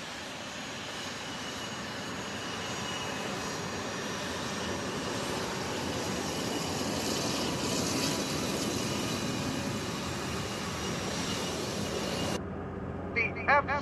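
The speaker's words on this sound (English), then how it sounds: "F-16 jets are flying." F-16 jet planes fly overhead with a broad, steady roar that swells gently and holds for about twelve seconds before cutting off, followed by brief faint sounds.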